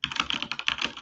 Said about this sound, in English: Dan, your keyboard is so loud.